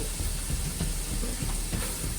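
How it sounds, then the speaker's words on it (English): Chopped onion dropped into bubbling butter in a pan gives off a steady, dense sizzling hiss that stays loud and even throughout, with no voices. "That sizzle is real."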